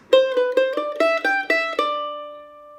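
Mandolin plays measure 7 of Congress Reel, a quick run of about eight bright picked notes in even rhythm, with the final note ringing out and fading, heard alone and close.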